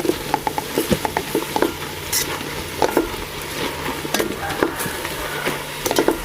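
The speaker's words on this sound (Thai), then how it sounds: "คั่วไปเรื่อยๆค่ะ" Thai curry paste for pickled bamboo shoot curry with tilapia is stir-fried with MSG and Rosdee seasoning in a pan. Repeated close scraping stirs rise over a soft, steady sizzle, with no talking.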